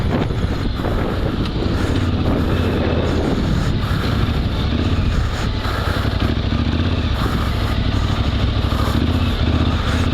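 Yamaha Ténéré motorcycle ridden in second gear on a dirt track, a steady loud engine drone with heavy wind buffeting across the whole stretch and no talk.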